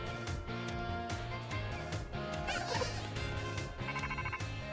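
An in-game phone rings in Pokémon Violet with a short, buzzy trilling ring pattern over busy background music and sound effects.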